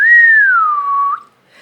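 A person indoors whistles one clear, sustained note that rises slightly and then glides steadily downward before cutting off, close and loud.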